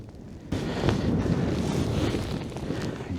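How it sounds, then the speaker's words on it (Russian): Blizzard wind whips across a frozen lake during ice fishing, a sudden loud, roaring gust that buffets the microphone and then holds as a rough, sustained rush with no talk. "Пуржит, ребята, серьезно."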